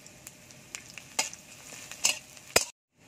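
Panch phoron spices with bay leaf sizzle quietly in hot oil alongside onion, with a few sharp utensil taps and scrapes as they are stirred, ending abruptly in silence.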